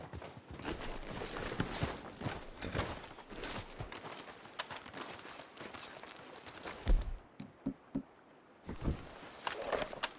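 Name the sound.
horses walking, clip-clop, in video game Red Dead Redemption 2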